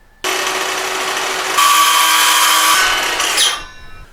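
A power saw bites into a leftover 2x4 piece of wood, whining steadily and then rising in pitch as the cut deepens, before spinning down after about three seconds.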